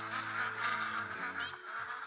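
A crowd of mallards in the Call of the Wild hunting game keeps up a busy stream of overlapping quacks, fairly close and steady throughout, with no voices over it.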